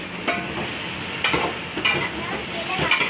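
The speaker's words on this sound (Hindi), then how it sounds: "तो प्याज ब्राउन हो रहे हैं एक तरफ से" Onions fry and brown in a pan for biryani, a continuous crackling sizzle broken by a few scraping stirs of a spoon, close and fairly loud.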